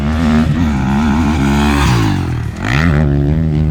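A 2025 KTM 350 XCF off-road motorcycle engine revs hard and close, its loud, steady buzzing roar rising and falling in pitch, with a brief dip near the end before climbing again.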